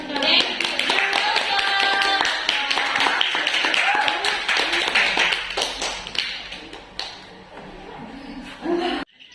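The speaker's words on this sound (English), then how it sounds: "finally applaud the speaker and all of you" Clapping rises for the speaker at the close of an English seminar session on mental health, a fairly small group applauding steadily, then thinning and fading toward the end while a voice talks over part of it.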